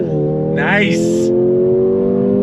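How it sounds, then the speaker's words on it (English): 2024 Mercedes-AMG GLA 35 under full-throttle race-start acceleration, a loud steady engine drone climbing in pitch from inside the cabin, with a short spoken exclamation over it. "Race start once again. On throttle, yeah!"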